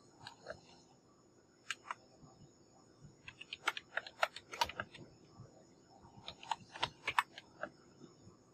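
A message being typed on a computer keyboard: sparse, close key clicks that come in short irregular bursts, with quiet pauses between them.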